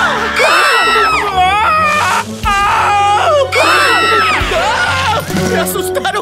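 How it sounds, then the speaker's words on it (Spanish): Cartoon characters in an animated children's zoo series let out several loud, high-pitched screams in quick bursts, with shrill voices rising and falling over a busy backing. "¡Me asustaron con ese grito!"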